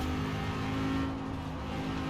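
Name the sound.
Lamborghini Huracan Performante engine in video game Forza Horizon 4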